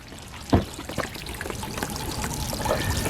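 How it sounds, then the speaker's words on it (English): Water drains from a Costway portable washing machine through a lowered tube, trickling and splashing steadily up close with a few small gurgling surges. "Just wait, let all the water drain out."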